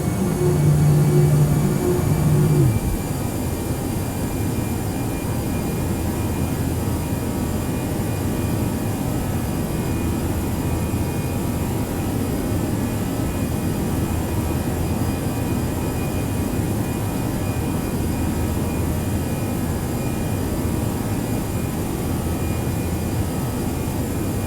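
A ToLiss A319 airliner on final approach in the X-Plane 11 simulator with gear and flaps extended gives a steady, loud broadband engine and airflow roar. It holds constant for the whole stretch after a brief louder moment at the start.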